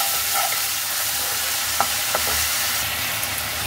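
Maggi noodles and paneer sizzle loudly in a pan as sauces are mixed in, a dense, continuous frying hiss with a couple of brief spoon taps, close and unbroken by any voice.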